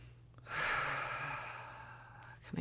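One long, deep breath drawn in close to the microphone, a breathy rush lasting nearly two seconds before it fades, with a small rustle at the end.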